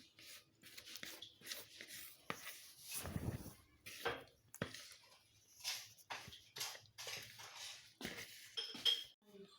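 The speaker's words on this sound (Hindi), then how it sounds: "ये देखिए पैन में मैं डाल लिया" Fruit sponge cake batter goes into a baking pan with intermittent clinks and scrapes of a utensil against metal, soft and close in a quiet kitchen.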